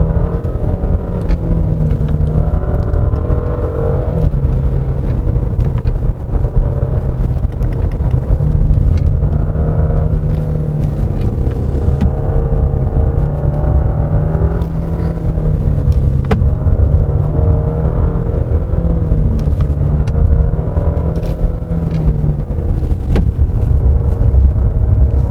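Cabin sound of a Genesis G90 AWD taking a winding mountain road in sport powertrain and suspension mode: a continuous loud low rumble of engine and tyres with shifting engine tones as it accelerates through the bends.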